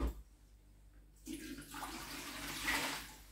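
Rinse water is poured out of a household water filter compartment, starting after a quiet moment as a rushing, splashing pour that swells and stays loud to the end, with nobody speaking.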